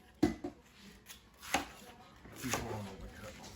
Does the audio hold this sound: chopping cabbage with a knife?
yes